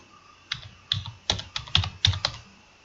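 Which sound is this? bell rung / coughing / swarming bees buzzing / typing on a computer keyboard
typing on a computer keyboard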